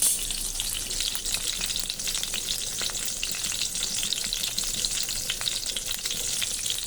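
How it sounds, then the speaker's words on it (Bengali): Eggplant pieces frying in hot mustard oil, a dense continuous sizzle and crackle close to the pan, with occasional clicks of stirring and no voices. "সর্ষের তেলের মধ্যে দিয়েছি সব বেগুনগুলো, এবার ভালো করে ভাজা করে নেব বেগুনগুলোকে"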